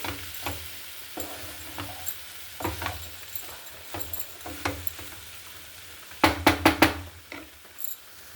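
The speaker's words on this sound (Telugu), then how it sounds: "మొత్తం కలిసేలా మిక్స్ చేసుకోండి" A spoon stirs dried coconut into a beans curry in a pan, making irregular soft knocks and scrapes with a faint sizzle underneath, then a quick loud cluster of clatters near the end. No voices.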